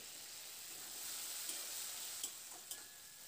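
A small amount of water added to frying spice masala for a potato and pea curry, a soft steady hiss and sizzle with a few light clicks from stirring, no voices.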